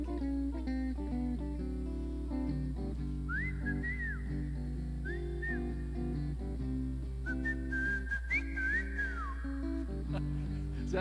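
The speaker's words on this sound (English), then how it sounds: "Is that whistling too loud," A person whistles a short melody in a few phrases during a live bar performance, faint and breathy, over a background of music.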